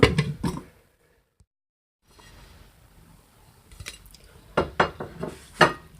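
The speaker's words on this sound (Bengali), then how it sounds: "এখন এটাকে ঢেকে দিচ্ছি 30 মিনিটের জন্য।" Kitchen clatter as a pot of rice-flour batter for golgula pitha is handled and covered with a lid: a few sharp metallic clinks at the start, a near-silent pause, then several knocks and clanks of metal and lid near the end.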